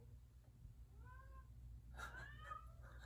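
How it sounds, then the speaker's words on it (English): A cat meows a few times, a short cry followed by a louder, longer meow, heard nearby over a low background hum. "We no longer have a screaming cat."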